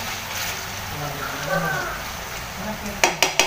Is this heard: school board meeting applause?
no